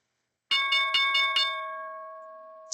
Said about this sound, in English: The bell's going to ring.